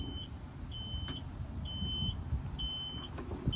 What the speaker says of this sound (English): it's got this funny sounding thing when you're backing up